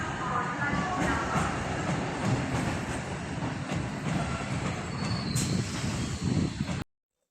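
A train rumbles steadily at Thanjavur Junction railway station with a dense, continuous low roar and faint rattling throughout, close by, then cuts off abruptly near the end.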